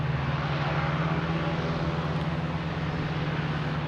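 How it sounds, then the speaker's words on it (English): Cape Air airplane taking off at Boston Logan Airport, a steady loud propeller-engine drone with a strong low hum that holds constant throughout. "We have a very loud Cape airplane, which is the sustainability one. But it is very loud."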